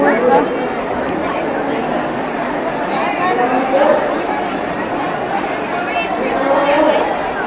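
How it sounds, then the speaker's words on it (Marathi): Dense crowd chatter at the Saundatti Yellamma temple, a continuous loud wash of many overlapping voices close around. "खूप गर्दी आहे"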